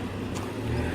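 Steady low rumble of car road noise while driving, a constant muffled drone with no talking.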